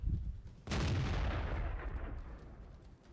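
A single heavy tank cannon shot in a tank video game booms close and loud, then rumbles away in a long fading tail.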